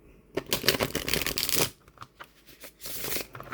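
Llewellyn tarot cards with flexible cardstock being shuffled by hand, a burst of dense riffling and flapping followed by softer taps and a second quieter run of shuffling.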